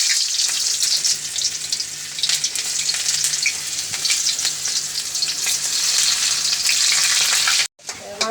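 Onions fry in hot oil already seasoned with cumin seeds and bay leaves, the base for a chicken curry. A loud, steady, close sizzle runs throughout, with a brief break near the end.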